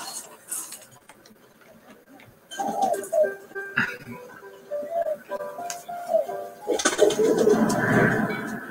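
Pigeon cooing in the video game Memories Retold, low soft coos repeating from about three seconds in, then a busier rustle of activity near the end as the bird takes off, over a quiet ambient game background.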